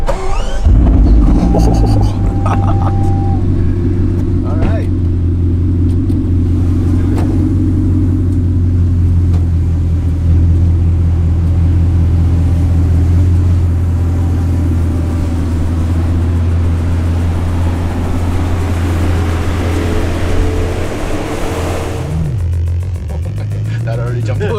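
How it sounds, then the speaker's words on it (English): Bugatti Chiron Super Sport engine starting and settling into a loud, steady low rumble that runs throughout, heard from inside the cabin with a brief spoken remark over it. "Engine on."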